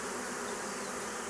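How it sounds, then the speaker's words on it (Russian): A honeybee swarm buzzes steadily in the air above a hive box, a dense, continuous drone of many wings that stays even and close throughout with no voices. "Ну, а тут сейчас пчелки как раз кружат над вот этим ящиком."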